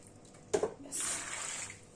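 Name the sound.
pouring a cup of water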